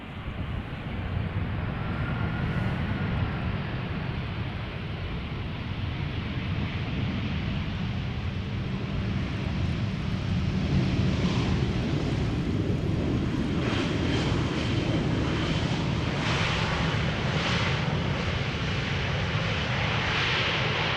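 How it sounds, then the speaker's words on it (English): A KLM Airbus A320 airliner touching down at Schiphol Airport after a flight from Malta, a steady broad roar of jet engines and rushing air that holds throughout at moderate distance, with slight brightening toward the end. "Arriving from Malta, A320. Touching down after 2 hours and 40 minutes."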